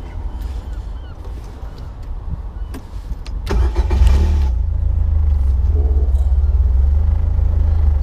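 Caterham Seven 270S sports car engine cranks briefly after some quiet handling noises, then fires with a sharp burst and settles into a loud, rumbling, close idle that holds to the end.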